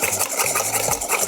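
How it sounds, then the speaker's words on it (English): Two eggs get whisked rapidly in a bowl for healthy protein muffins, a steady, fast, rhythmic scraping and swishing heard close up with no voices. "let's whisk those up really fast"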